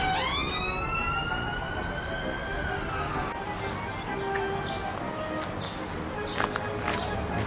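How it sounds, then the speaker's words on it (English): A wailing siren rises and sweeps at the start, then fades into background noise with scattered faint sounds and talk-like bursts. "Why do I hear sirens all of a sudden?"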